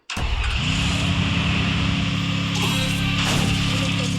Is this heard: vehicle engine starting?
yes